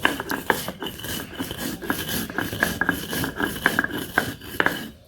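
Mustard seeds being ground by hand on a grinding stone for a raw mango pickle give a rhythmic series of close scraping, rasping strokes, repeating steadily with no talk.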